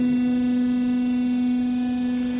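An industrial vacuum double planetary mixer runs at low speed, giving off a steady electrical hum with a strong constant tone and no change throughout.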